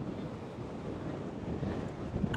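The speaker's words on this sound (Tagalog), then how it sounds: "Lakas ng hangin" Strong, cold wind on the coast at Yehliu, Taiwan, roaring in a steady broadband rush and buffeting the microphone, with no voices.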